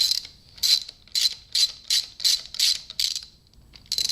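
A hand ratchet works loose 10mm bolts on a Suzuki GS550 motorcycle starter, giving about ten crisp clicking strokes in a steady rhythm, up close and alone.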